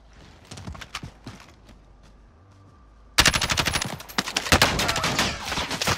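Call of Duty: Modern Warfare combat, scattered distant shots at first, then a sudden loud, dense burst of rapid automatic gunfire that continues close and sustained to the end.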